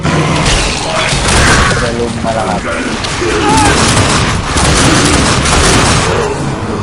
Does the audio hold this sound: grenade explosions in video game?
yes